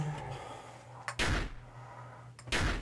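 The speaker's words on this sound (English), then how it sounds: "Close the door!" A door closing twice in the horror game Mad Father, two sharp, fairly close thuds about a second and a half apart over a low steady hum.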